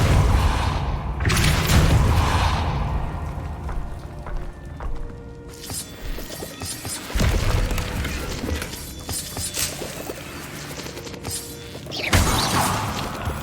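Depulso spell cast in Hogwarts Legacy, a series of heavy magical blasts and thuds with crashing, rumbling impacts, loud and close, repeating several times.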